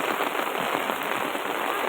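Heavy rain pours steadily in Rajula, a dense, even hiss of drops hammering surfaces that stays loud and unbroken throughout, with no voices.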